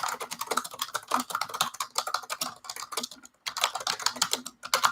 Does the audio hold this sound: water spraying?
no